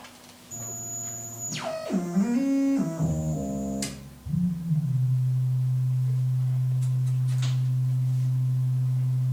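A Buchla synthesizer's sample-and-hold random voltage makes the tone jump between stepped pitches in a random pattern, sliding and glitching before settling into one steady, droning low note.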